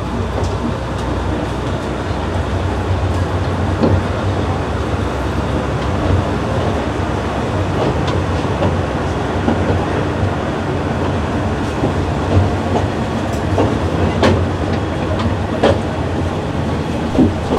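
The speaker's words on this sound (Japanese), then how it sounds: "五井駅を出発。" A Kominato Railway KiHa 200 diesel railcar pulls out of Goi Station, its engine drone and rolling rumble steady and loud throughout, with occasional rail clicks and no talk.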